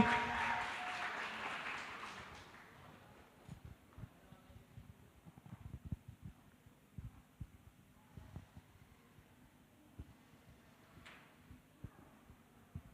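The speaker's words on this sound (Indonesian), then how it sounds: "Beri tepuk tangannya dong untuk peserta kita kali ini" Audience applause for contestants at an HKBP Cijantung church youth competition final breaks out in a short burst and fades after a couple of seconds, leaving a quiet room with scattered thumps.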